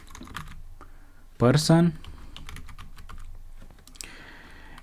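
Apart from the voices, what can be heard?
typing Python code on a computer keyboard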